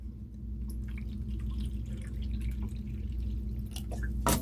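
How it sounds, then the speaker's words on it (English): Water poured from a 2-cup measure while making a new soup recipe, a faint trickling and dripping over steady low kitchen hum, with brief louder splashes near the end. "I'm just going to go ahead and put the 2 cups of water in here"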